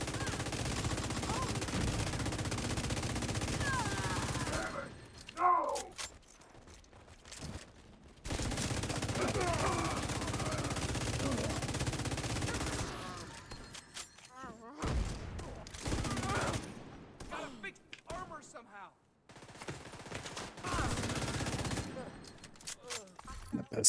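Heavy gunfire in a video game, shotgun blasts and rapid bursts in loud dense stretches broken by brief pauses, with people talking over the action.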